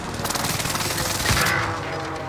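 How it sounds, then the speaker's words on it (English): Airstrike explosions and rapid gunfire in a Caldera multiplayer video game sound as a dense, loud, continuous crackling barrage with a heavier blast near the middle. "Oh, I got hit with an airstrike."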